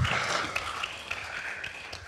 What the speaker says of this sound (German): Ich würde sagen, ganz großen Applaus mal für Katrin und für Claudia.